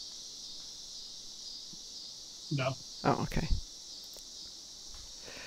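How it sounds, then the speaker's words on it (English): Cicadas outside on a warm night, a steady high-pitched droning buzz running throughout as a constant background, with people talking briefly in the middle. "can everybody hear the cicadas outside?"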